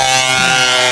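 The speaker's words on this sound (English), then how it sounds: "He installed a car horn on his moped" Car horn fitted to a moped blaring in one loud, sustained, steady tone with strong harmonic buzz, close and unbroken for the whole second.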